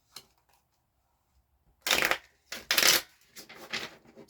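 Shuffling a large deck made of two similar card decks combined, heard as a few loud riffling bursts close to the microphone with short quiet pauses between them.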